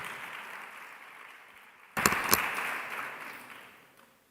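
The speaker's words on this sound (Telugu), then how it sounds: "చప్పట్లు కొట్టి దేవుని స్తుతించు" A church congregation bursts into clapping in praise, the applause continuing, then gradually fading away over a low steady hiss.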